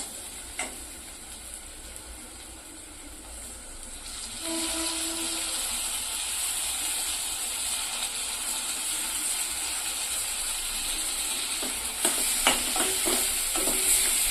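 Tomato sautéing with onion in a hot pan for egg bhurji, a quiet hiss that swells into a steady louder sizzle partway through, with occasional spatula taps and stirring near the end.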